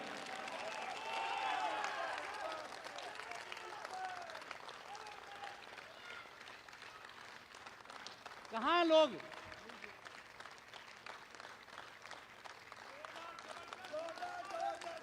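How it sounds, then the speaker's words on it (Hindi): Crowd applause at a stage event, a fairly faint wash of clapping from a large audience, with someone speaking over it and a short whistle-like cry partway through. "सब लोग एक बार दोनों हाथ आकाश में उठाकर जोरदार तालियों की गड़गड़ाहट करके बताइए कि आज का कार्यक्रम कैसा हो गया है"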